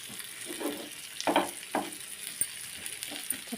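Fish frying in a small amount of oil in a pan, a soft continuous sizzle with a few louder crackling bursts and a light clink of utensils, heard close with no talk.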